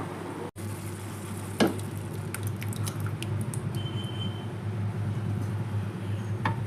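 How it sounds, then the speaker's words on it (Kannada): A pav bhaji vegetable mixture bubbles softly in a pan on the stove, a faint steady patter of popping with a couple of sharp clicks and a brief high whine. "ನೋಡಿ ಮಿಶ್ರಣ ಕುದೀತಾ ಇದೆ"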